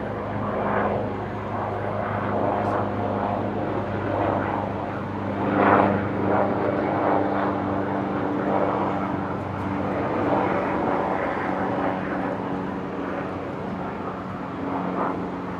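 Fixed-wing airplane passing over Brisbane International Airport, a steady loud engine roar with droning tones holding throughout, swelling slightly midway, heard alone outdoors without talk.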